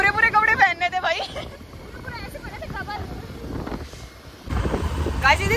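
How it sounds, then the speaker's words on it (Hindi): Cold wind gusts buffet a microphone outdoors, a steady rough rumble under continuous talking that swells louder near the end. "बहुत ज्यादा इतनी ठंडी हवा चल रही है।"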